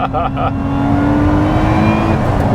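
A Lotus Emira sports car's engine pulls steadily in second gear, a loud continuous rising drone heard from inside the cabin, with a brief voice at the start.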